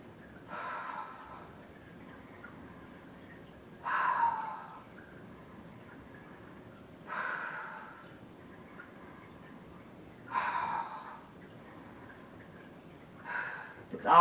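Deep breaths are taken through the nose while holding a yoga core pose, five slow airy exhales spaced about three seconds apart, close and soft against near silence.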